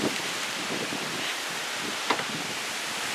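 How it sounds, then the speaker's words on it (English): Hurricane Dorian wind and rain roar as a steady, dense rushing noise that fills the whole stretch, with one brief gusting swell near the end and no talk. "The wind is windy."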